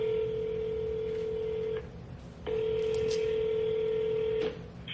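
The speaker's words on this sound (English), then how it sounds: "Oh shoot, I have to call this one building for this one client." A telephone keypad sounds while calling an apartment building, a loud, steady tone held for nearly two seconds, a brief pause, then a second long tone, close and clear with no talk.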